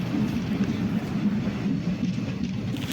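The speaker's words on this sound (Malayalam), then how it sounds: "ഈ ട്രെയിൻ ഇപ്പം അങ്ങോട്ട് പോയിക്കൊണ്ടിരിക്കുകയായിരുന്നു" A MEMU train on the Kollam–Punalur line rumbles steadily with a low, continuous roar and faint rhythmic clatter, close and sustained throughout.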